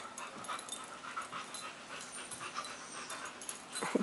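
A dog panting in short, steady breaths close by, a soft continuous rasp with no voices.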